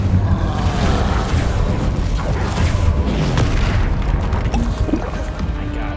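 A Confringo fire spell explodes in the video game Hogwarts Legacy, a loud, sustained booming blast with continuous rumbling debris and no speech.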